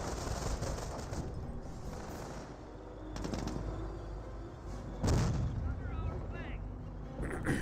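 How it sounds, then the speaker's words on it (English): In Company of Heroes, an AT gun fires on a Sherman tank amid broader battle noise. Heavy cannon reports and scattered gunfire crack out over rumbling tank engines, with a commentator talking throughout. "AT gun does connect on the Sherman tank"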